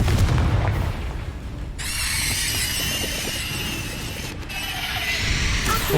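The Confringo fire spell in the game Hogwarts Legacy goes off with a deep booming blast, followed by sustained crackling, ringing spell effects and rumbling that carries on for several seconds, loud and close.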